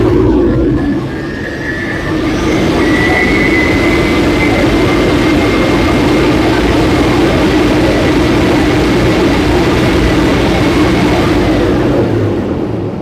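Car engine held at raised revs of about 2,000 RPM during a vacuum test, a loud, steady, close-up engine roar with a broad rushing tone that stays even for the whole stretch.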